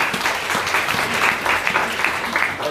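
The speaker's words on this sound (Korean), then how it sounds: "박수 한번 쳐주시기 바랍니다." An audience at a patriotic protest rally breaks into loud, sustained applause, a dense continuous wash of many hands clapping close by.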